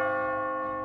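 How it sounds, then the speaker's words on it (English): A sustained, ringing bell tone from the puzzle game Catherine, loud and steady with rich overtones, heard alone. "As you near the top, you will hear a bell ringing."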